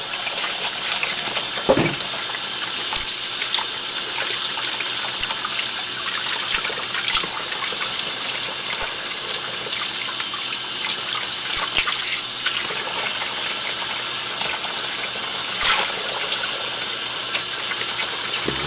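A plate rinsed under running water, with a steady hiss of flowing water that carries on through the whole stretch, a few faint knocks and clinks on top, and no voices.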